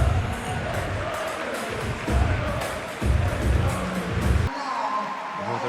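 A capacity stadium crowd in an eFootball simulation of England versus Argentina at the 2026 FIFA World Cup, a loud steady roar of cheering that swells in repeated waves.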